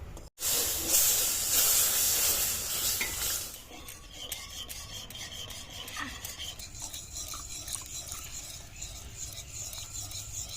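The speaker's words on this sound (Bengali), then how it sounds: "ময়দা দিয়ে দেবো অল্প অল্প করে দুধ দিয়ে নাড়তে থাকবো" Flour and milk being stirred together in a pan for a white sauce, a steady scraping, hissing rasp that is loudest in the first few seconds and then continues more softly, with no talking.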